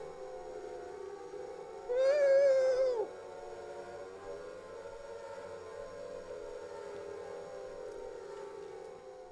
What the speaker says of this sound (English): some weird part of my brain was just hearing that as cheering instead of a fucking siren